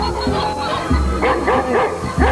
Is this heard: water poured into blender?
no